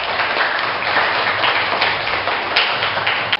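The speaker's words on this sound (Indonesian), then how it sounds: "Boleh tepuk tangan untuk teman kalian?" A classroom full of students claps together in a steady, dense burst of applause that continues throughout.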